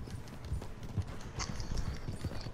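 Video game horse hooves clip-clop in a steady walking rhythm, close and clear, with a brief faint whinny-like tone in the middle and no talk over it.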